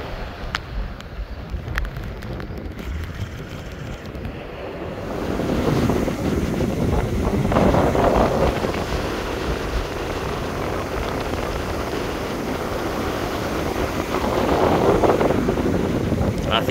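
Steady wind buffets the microphone on an open beach while fishing, with breaking surf rumbling beneath; the roar swells louder about a third of the way through and stays strong, with no talking.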